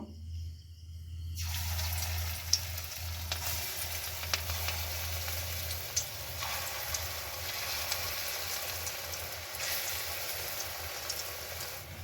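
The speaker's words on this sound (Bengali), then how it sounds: "এখন বড়াগুলো ভেজে নেব, তাই সাদা তেল দিয়ে দিচ্ছি।" Red lentil fritters fry in white oil with a loud, dense, continuous sizzle that holds steady throughout, with small pops and crackles scattered across it.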